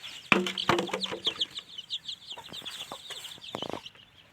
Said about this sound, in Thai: ไก่พี่น้อง